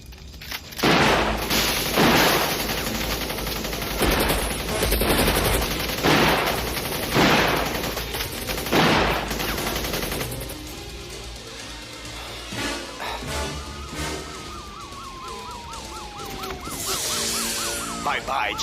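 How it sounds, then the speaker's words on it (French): Bursts of machine gun fire from a rifle in a police shootout scene, loud rapid volleys in the first half, then fading into sirens, crashes and scattered action sounds, with voices briefly mixed in. "L'inspecteur Sévrance, il est armé d'un fusil mitrailleur."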